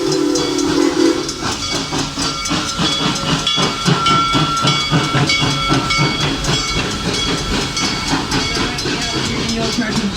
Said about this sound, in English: Serengeti Express train 601, green train with green cars.